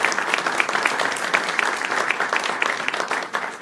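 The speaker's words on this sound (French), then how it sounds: "Je pense que vous pouvez l'applaudir très bien." An audience at a public campaign meeting for a parliamentary candidate applauds, with brisk, continuous clapping from a roomful of people and sharp individual claps standing out, fairly loud and fading slightly near the end.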